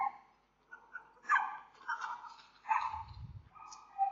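Small dog barking in a few short yapping bursts at close range, mixed with a low rumble that may be a passing car and some faint voices.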